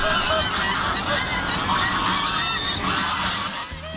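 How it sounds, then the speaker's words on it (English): A noisy gaggle of feral geese at Western Springs honking continuously and loudly, many overlapping calls close by with no talking. "Gaggles of feral geese are the first thing you see or hear upon arrival at Western Springs."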